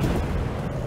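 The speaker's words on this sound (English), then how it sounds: "Pipe bomb!" A pipe bomb detonates in Dead Island 2, a dense, muffled blast with heavy low rumble filling the whole short moment.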